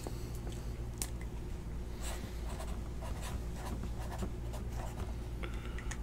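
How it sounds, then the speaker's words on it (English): Pen tip scratching across a small paper post-it note at a trading card break, a close, steady run of scribbling strokes with brief pauses and no talking. "I wrote it on a post-it note so you know it's real"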